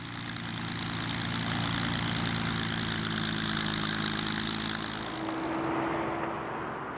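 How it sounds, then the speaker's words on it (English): A supercharged Merlin engine on a Mark 9 Spitfire runs with a steady deep droning roar and fixed low tones, easing slightly in pitch near the end. "The supercharged Merlin engine in the Mark 9 Spitfire is what they came up with."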